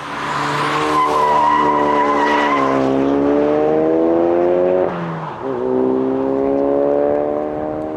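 A Ford Focus RS in drift mode slides with loud, sustained tire squeal, a wailing tone that climbs and falls as the car drifts, briefly breaking off before resuming, close and alone.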